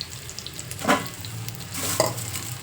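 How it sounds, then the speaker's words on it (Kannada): Curry leaves frying in hot oil for a masala pulao, a soft steady sizzle with a couple of sharper crackling bursts as the leaves hit the pan and are stirred, no talk. "ಕರ್ಬೇವಿನ ಸೊಪ್ಪನ್ನ ಅದರೊಳಗಡೆಗೆ ಹಾಕಿ ಹುರ್ಕೋಬೇಕು"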